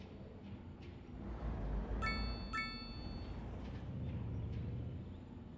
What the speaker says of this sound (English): You can sort of hear the electric bus, right?